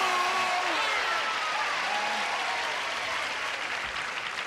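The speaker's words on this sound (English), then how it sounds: "help us now in greeting our stars with a big round of applause" A studio audience at a Match Game–Hollywood Squares taping gives a sustained, loud round of applause greeting the game show stars, with brief voices faintly audible over the clapping.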